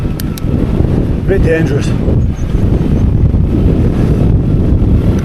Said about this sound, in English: I don't want to go on the road with it being so windy. Blowing me all over the place.